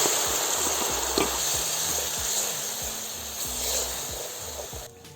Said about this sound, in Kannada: ರುಬ್ಕೊಂಡಿರೋಂಥ ಮಸಾಲೆ ಹಾಕ್ತಾಯಿದ್ದೀನಿ